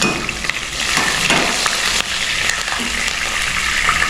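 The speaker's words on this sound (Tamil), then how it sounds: "தண்ணி இருக்குதுன்னா அப்படி தான் வெடிக்கும், கவனமாக இருக்கணும்." Hot oil spattering and crackling in a pan while cooking aloo mutter masala, a loud, continuous close-up sizzle with scattered sharper pops and faint stirring clinks.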